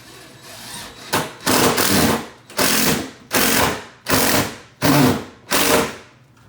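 Screws being driven with a power driver to snug a cabinet into place during installation, seven short loud bursts of whirring and ratcheting in a steady on-off rhythm, close and without talk.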